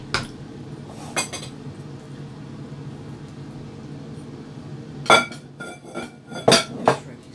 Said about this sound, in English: right now, I'm just gonna stir it and cover it up